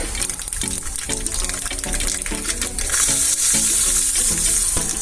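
Garlic hitting hot oil after spluttering mustard seeds for an aloe vera pickle, a dense crackling sizzle that surges louder and brighter midway, with rhythmic clattering underneath.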